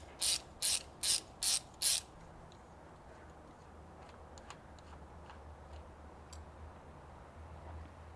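Five quick, loud bursts of socket-ratchet clicking while coil pack bolts come out of a VW Scirocco Mk2 engine, then faint small taps and handling noises over a low hum.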